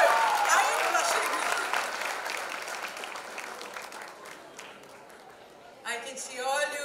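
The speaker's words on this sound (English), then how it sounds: "Can we have a huge round of cheer" An audience at a foundation launch event breaks into clapping and cheering, loud at first and then gradually fading, before a voice speaks near the end.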